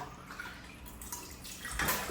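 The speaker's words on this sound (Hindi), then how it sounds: "1 कप हम पानी का डाल देंगे इसमें" Water poured from a cup into a cooking pot of spices for aloo gosht, a soft splashing trickle that swells toward the end, with no talking.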